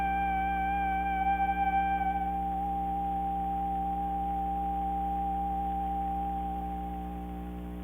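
A steady electronic oscillator tone holds a single pitch, with fainter higher overtones fading out partway through, then softening slightly near the end.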